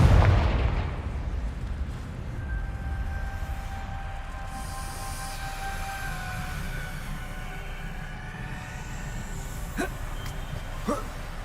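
Confringo fire spell blasts in the Hogwarts Legacy game: a broadband burst opens, followed by sustained tonal magic effects and a couple of sharp explosive cracks near the end, all loud and close.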